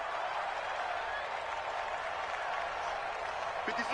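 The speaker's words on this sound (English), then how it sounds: "That's why you hear that clapping on the sidelines, right?" Steady crowd applause and clapping from the sidelines in an American football video game on PS4, a continuous wash of sound filling the whole stretch at moderate level.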